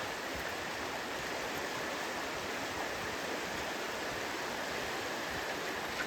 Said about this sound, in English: The river's a lot fuller than last time.